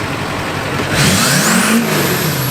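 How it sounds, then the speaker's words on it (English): A diesel truck roars past close by, rising quickly to a loud whooshing peak and fading away. "Oh, diesel went by."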